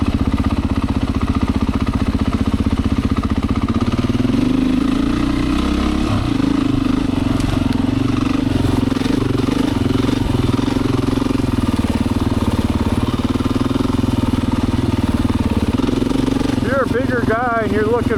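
Beta 500 dirt bike engine running steadily on a Michigan woods trail, a continuous loud mid-pitched drone with rough clatter and small throttle changes, with a voice talking over it.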